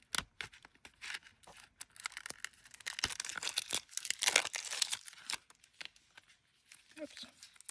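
Scissors cut open the packaging of a knockoff card deck box, giving a run of sharp snips, crinkling and tearing in uneven bursts, loudest in the middle and thinning to a few small clicks at the end.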